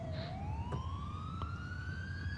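An ambulance siren in GTA IV wails steadily, rising slowly in pitch over a low rumbling street background, fairly close and alone without talk.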